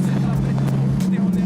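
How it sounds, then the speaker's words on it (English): A Mercedes W124 E500 engine runs with a deep, steady low hum and a throbbing rumble, close and fairly loud for a brief moment. "The old Mercedes used to sound like this."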